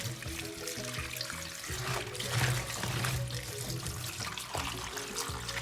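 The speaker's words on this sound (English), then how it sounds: "you're going to put your hand together and wash your sorrel properly" Sorrel washed by hand in water, with splashing, sloshing and trickling that rises and falls in uneven bursts, close and fairly quiet, with no talk.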